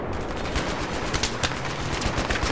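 Jeep-mounted machine gun fires in Battlefield 3 as sustained rapid bursts of gunfire, loud and dense across the whole moment with sharper peaks among the shots, with no voices.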